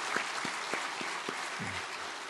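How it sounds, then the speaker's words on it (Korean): Applause from a church congregation at an early-morning special prayer service, steady clapping filling the room with a few sharper individual claps standing out. "우리 수고해 주신 우리 여전도회 또 회장님들 위해서 한번 감사의 박수 한번 드리겠습니다."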